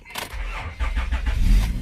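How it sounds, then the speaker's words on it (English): A 2004–2008 Acura TL engine cranks briefly and then catches and fires up, settling into a rough, loud idle at close range, with the car's battery a little low after sitting in a garage. "the other custom one, will start the car"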